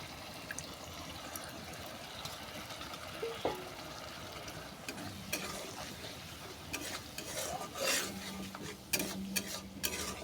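Spice paste stir-fried with tamarind water in a pan, a continuous bubbling sizzle with frequent scraping and clinking of a spoon against the pan, growing busier toward the end, close and steady, no talk.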